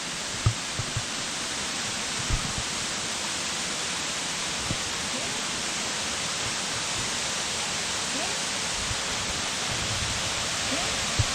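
Ta Fa waterfall rushes in a steady, broadband hiss of falling water, constant and enveloping throughout, with a few faint knocks and no clear talking.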